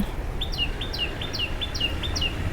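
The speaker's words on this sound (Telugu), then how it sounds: "ఈ యాప చెట్టు మీద తోటలనే తిరుగుతూ ఉంటుంది గో ఈ పిట్ట అది చిక్కుడు చెట్టు పిట్ట అంటారు దాన్ని" A bird locally called chikkudu chettu pitta calling in a terrace garden, a steady series of about eight short bright chirps at an even rhythm, moderately near over a low rumbling background.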